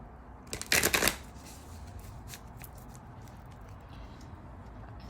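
A quick riffle of tarot cards being shuffled, a short crisp flutter close by, followed by quiet faint handling sounds.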